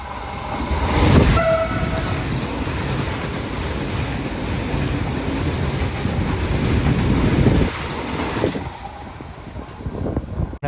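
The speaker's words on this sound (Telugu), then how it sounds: "చూడండి ఎంత స్పీడ్ అయితే వస్తాను మన వందే భారత్ ట్రైన్ అయితే" A Vande Bharat Express train passes at speed close by, a sustained loud roar and rush of wheels with a short horn blast near the start, fading toward the end.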